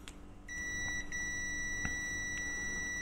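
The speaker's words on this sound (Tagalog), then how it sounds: "Ayan, may buzzer na, tsaka umiilaw pa." A steady electronic beep from the continuity tester buzzer of a Kaiweets HT118A digital multimeter, holding on continuously with a few faint clicks over low background hum.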